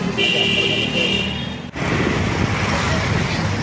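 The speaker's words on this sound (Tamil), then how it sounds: "நமது பேருந்து புறப்பட்டு விட்டது." A bus pulls out of Trichy Chatram bus stand, its engine and road noise loud and close after a sustained horn blast that cuts off midway, with a voice talking over the rumble.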